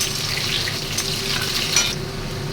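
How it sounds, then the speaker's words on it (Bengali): Steady close sizzling of potatoes frying in hot oil in a kadai, with soft stirring scrapes and no voices. "আলুটা একটু ভেজে নিয়ে তুলে নেব হালকা করে"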